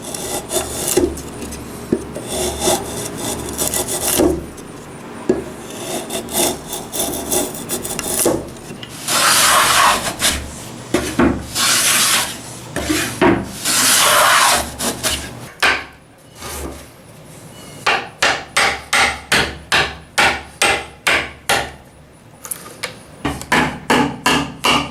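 Hand tools working wood while cutting a shallow spline groove along a Japanese planing board, with irregular rasping strokes and knocks early on, then a run of sharp, evenly spaced back-and-forth saw strokes near the end, close up with no talking.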